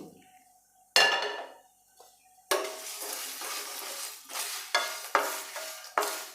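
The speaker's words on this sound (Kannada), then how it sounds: "ಇದನ್ನು ಹದವಾಗಿ ಈ ಥರ ಫ್ರೈ ಮಾಡ್ಕೋಬೇಕು ಡ್ರೈ ರೋಸ್ಟ್ ಮಾಡ್ಕೋಬೇಕು" Ginger, dry coconut and fennel seeds are dry roasted in a pan while a spoon stirs and scrapes them. The scrapes come as sharp, close bursts with quiet gaps between them, and there is no talking.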